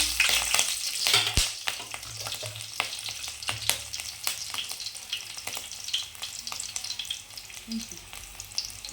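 Cinnamon, cloves, a bay leaf and green chili fry in hot oil while being stirred, giving an uneven crackle and sizzle with sharp pops and occasional utensil clicks.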